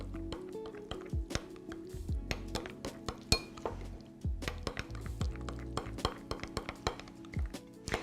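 Pizza ingredients are being mixed in a bowl, with a utensil clinking and scraping against the dish in an irregular rhythm of sharp close taps over soft squishy stirring and no talking.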